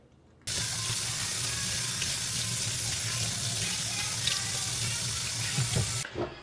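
Steady running water from a tap rinsing bleached hair, a constant splashing rush lasting several seconds before cutting off abruptly.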